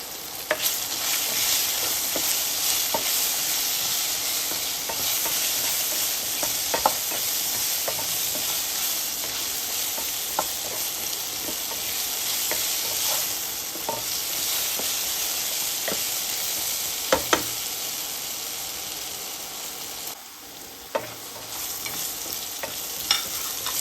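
Potato pieces frying in oil with salt and turmeric for a home-style aloo paneer, a steady close sizzle and hiss with occasional stirring clicks and scrapes of a spatula, no voices.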